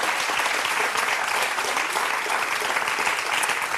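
A studio audience breaks into steady, dense applause that fills the room from start to finish, loud and even.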